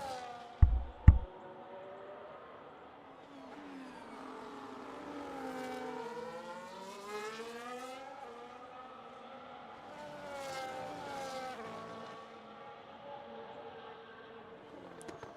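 Engines of Formula-style race cars in a racing video game at the British circuit, whining and shifting pitch as one car overtakes another, steady and moderately loud behind quiet commentary.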